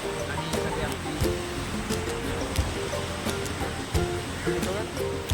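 Sea waves wash onto the shore at Palshet, a steady rough surf hiss with scattered splashing bursts. It plays under nearby voices.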